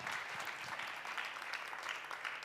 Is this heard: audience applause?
yes